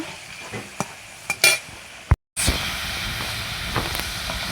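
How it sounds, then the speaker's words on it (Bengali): Potatoes frying in oil in a pan while being browned, with steady close sizzling and hissing, a few stirring scrapes and clinks, and a brief dropout before the sizzle resumes louder. "আলুটাকে একটু লাল লাল করে ভেজে নেব"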